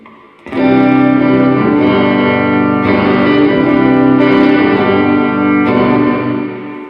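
Electric guitar on its neck pickup played through a Biyang RV-10 Tri Reverb pedal, a strummed chord ringing out loud with lush reverb tails and a slight edge of distortion, re-struck a few times and sustained without any voice.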